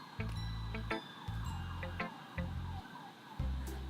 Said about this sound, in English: I don't know if you can hear that siren